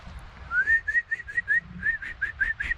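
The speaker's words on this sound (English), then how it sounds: "I actually can whistle louder inhaling than exhaling" A person whistling while inhaling, a thin airy series of short rising and wavering notes repeated about a dozen times, close and fairly quiet.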